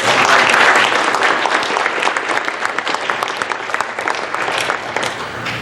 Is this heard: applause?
yes